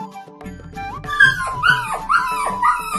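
A cartoon dog gives a run of short yelping, whining barks, four or five rising-and-falling cries in quick succession, loud and close over a background music bed.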